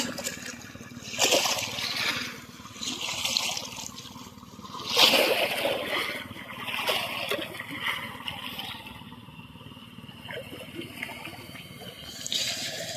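Rushing water from the strong current of the Padma River, a continuous wash with splashing surges, moderately faint and uneven, heard over a low steady hum.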